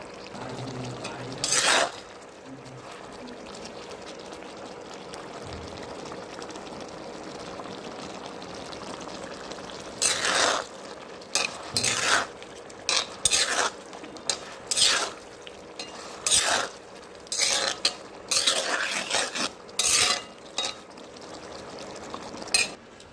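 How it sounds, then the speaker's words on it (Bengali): Spoon stirring food in a cooking pot: a quiet stretch, then a loud run of repeated scraping, knocking strokes close by, with no voices. "এই যে নাড়লে পরে এই যেভাবে জোরে জোরে শব্দ হয়"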